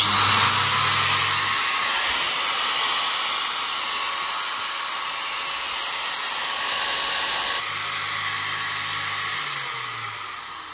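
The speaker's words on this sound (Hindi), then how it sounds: "900 वाट की ग्राइंडर को हम इसके ऊपर डायरेक्टली टर्न ऑन करके आपको दिखा देते हैं।" An Inko 900-watt electric grinder runs steadily on a homemade battery-free 1000 W solar inverter, giving a loud continuous high-pitched whirring hiss for the whole stretch, with a low hum appearing at the start and end.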